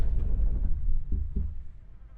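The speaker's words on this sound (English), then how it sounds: "the loudest thing I hear right now is those stupid flies buzzing around the bones" Flies buzz around bones in The Isle dinosaur survival game, a steady low droning hum that stays close and fairly loud throughout, with a couple of brief soft thumps partway through.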